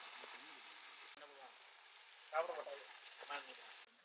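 Ginger and garlic sizzle in a hot pan for a village-style quail fry, a steady soft crackle with a brief louder burst partway through and faint background voices.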